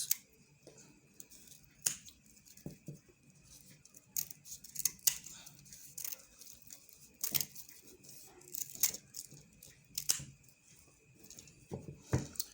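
Scissors trimming the leftover material on a fascinator cup, a quiet series of crisp, irregular snips close by with short pauses between cuts.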